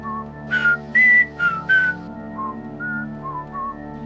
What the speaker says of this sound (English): When in doubt, whistle an annoying tune.